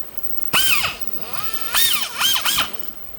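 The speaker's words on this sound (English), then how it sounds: "You do not want to drill at an angle and come out the side of the bolt." A power drill bores into a broken bolt stud in short, loud bursts, its motor winding up and down in pitch across three or four pulls of the trigger, with brief pauses between them.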